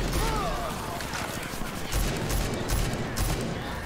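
Gunfire and grenade blasts from the shooter game Rage 2, a dense run of overlapping shots and booming bursts that stays loud throughout, with speech mixed in.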